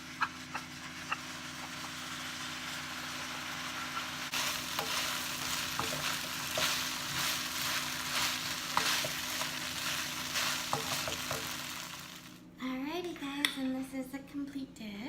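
Mongolian sauce poured over soy curls in a hot frying pan sizzles steadily and close, with rhythmic spatula scrapes throughout, swelling louder after the pour, then a brief pause and a few clanks near the end.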